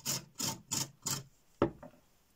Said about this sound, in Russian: Ну а морковку я буду натирать на крупной терке.